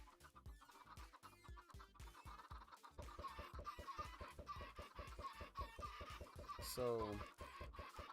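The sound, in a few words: chickens clucking, from a video game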